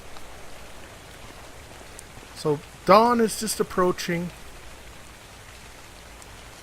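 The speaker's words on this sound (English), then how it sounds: "It's raining out." Steady rain falls in the survival video game Ark Survival Evolved, a constant soft hiss of drops that runs through the whole scene beneath a brief stretch of someone talking.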